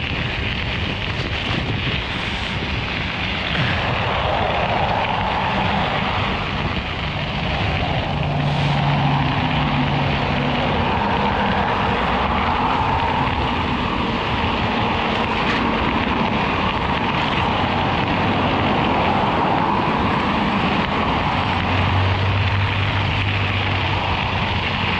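Heavy wind buffets the microphone of an e-bike with a Bafang BBS02 mid-drive motor riding into a headwind along an old highway, a loud, constant roaring rush with no talk.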